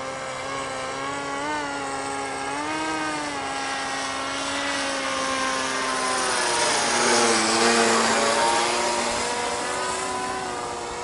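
A HobbyKing SuperG RC autogyro in extended flight, its motor and rotor giving a continuous buzzing whine that rises and falls in pitch as it maneuvers and swells louder as it passes nearer.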